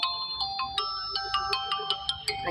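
A mobile phone ringtone plays a repeating bright electronic melody of quick, evenly spaced notes, moderately loud and heard alone in a home kitchen.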